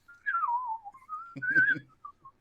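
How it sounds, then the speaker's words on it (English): A person whistles a short, wavering tune that slides downward, then holds a brighter note with a brief low murmur under it. "I start whistling"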